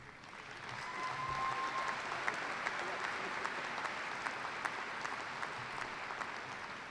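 A commencement audience at the University of Toledo applauds its graduating students, a dense, steady roar of clapping from a large hall that holds evenly throughout.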